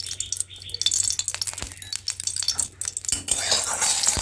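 Oil heating in a hot kadai, with light sizzling broken by sharp clinks and scrapes of a spoon against the pan, uneven and close, no voices.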